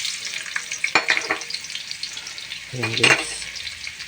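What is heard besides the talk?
garlic and onion sautéing in pan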